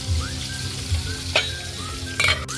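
Fish frying in a pan with ginger, sizzling loudly and steadily up close, broken by a couple of sharp scrapes and clinks as the pieces are flipped, no speech.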